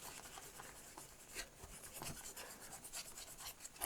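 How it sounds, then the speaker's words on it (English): Kitchen towel soaked in lighter fluid scrubs paint off a vintage Star Trek toy figure, a continuous close, quiet rubbing hiss with quick back-and-forth strokes and no talking. "I'm going to soak a piece of this kitchen towel and then give this a rub and see what happens."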